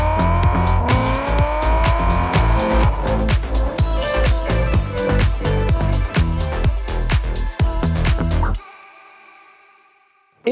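A Series 2 Lotus Elise sports car drives past with a loud, rising engine note and quick gear changes, revving hard for several seconds before cutting off abruptly into near silence.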